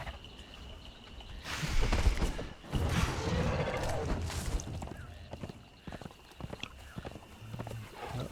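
Horse hooves clip-clop steadily beneath a rider in the video game Conan Exiles, close and moderately loud, mixed with thuds and rustling game sounds.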